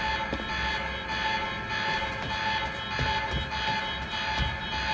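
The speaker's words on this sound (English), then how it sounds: "The alarm must have locked everything down." A facility alarm wails in a research facility in Quantum Break, a steady electronic siren-like tone repeating throughout with a dense game soundscape beneath it, loud and continuous.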